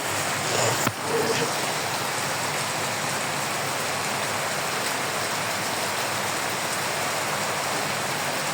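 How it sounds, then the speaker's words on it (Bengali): Heavy rain pours down in a constant, loud, broadband roar that stays steady from start to finish, with only a brief disturbance near the start. "আমার মনে হচ্ছে বৃষ্টিটা খুব জোরে হচ্ছে"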